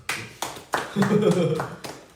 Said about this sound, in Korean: 이야 박수.